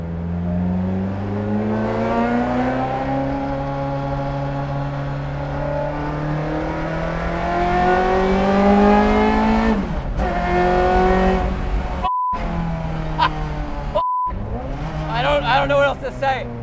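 A 1995 Ferrari F355 race car revs hard on a track, heard loud from the cockpit as the engine pitch climbs repeatedly through the gears with brief drops at each shift, then chops off near the end.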